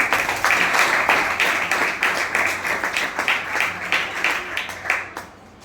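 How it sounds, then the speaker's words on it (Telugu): Loud, dense applause and clapping from a yoga class fills the space continuously, steady and close, then fades out at the very end. "చప్పట్లు కొట్టు గట్టి."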